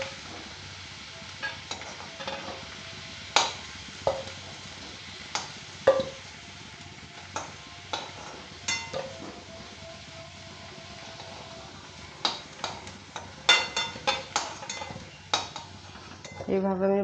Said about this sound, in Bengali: এইভাবে আমি বাকি আলুগুলো ভেজে নেব সব।